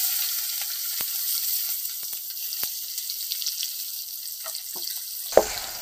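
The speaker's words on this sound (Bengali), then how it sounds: "পেঁয়াজ কুচিটাকে আমি একটু লাল করে ভেজে নেব" Chopped onion with black cumin fries in hot oil left after frying hilsa fish, a steady close sizzle with a few clicks of stirring and a louder clatter near the end.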